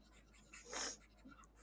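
A board is wiped clean in a classroom, a short soft rubbing swish lasting under a second, quiet and close, with faint scuffs around it.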